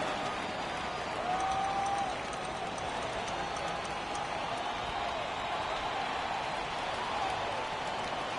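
A dense, steady crowd roar fills a basketball arena in the NBA 2K video game during a Milwaukee Bucks versus Dallas Mavericks game. It holds an even level for about eight seconds.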